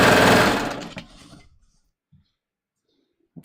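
A sewing machine running a flatlock stitch whirs loudly for about a second, then winds down and stops, followed by a couple of faint soft clicks in near silence.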